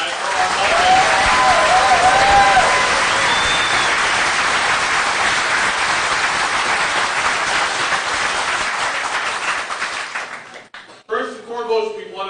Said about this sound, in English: Can we get a round of applause for our organizer, for our moderator?